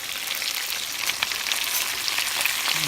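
Pork neck bones fry in grease with a dense, steady sizzle and crackle, close and fairly loud, running unbroken with no voices.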